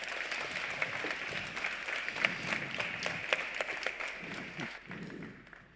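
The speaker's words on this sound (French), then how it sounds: "j'ai envie que vous donniez un maximum d'applaudissements pour Philippe Devost" Applause from a conference audience at Mêlée Numérique 2022 in Toulouse, a steady wash of many hands clapping at moderate volume with scattered louder claps, tapering off near the end.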